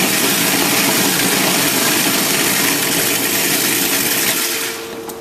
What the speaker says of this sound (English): take off this part of the food processor, and while I'm pulsing it,